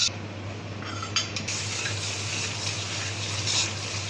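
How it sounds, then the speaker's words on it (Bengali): Spices with salt, coriander powder and tomatoes are stirred in a pan, giving a steady hiss with light scraping and clinks of a utensil against the metal, close and constant, with no talking. "মশলা কষানো হচ্ছে, কষানো হোক ভালো"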